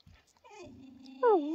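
A dog at a snowy work site gives a drawn-out whimpering whine that rises into a louder, higher yelp near the end, heard close up with brief faint sounds before it.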